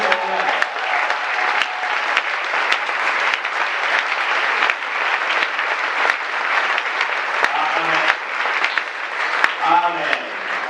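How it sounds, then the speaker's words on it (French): A church congregation at a Sunday service applauds and cheers to acclaim the Lord, with sustained dense clapping and scattered shouts filling the room, and a voice rising briefly near the end. "Est-ce que maintenant tu peux acclamer ton Seigneur?"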